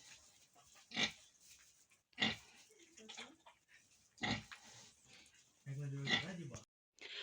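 Vietnamese pigs grunt and snort in short, scattered bursts close by at feeding time, with a voice talking briefly over them.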